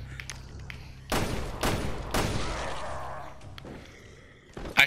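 Gunfire in Resident Evil Revelations 2: a few heavy blasts in quick succession followed by a lingering rumble, then quieter game noises and a final sharp burst, loud and close.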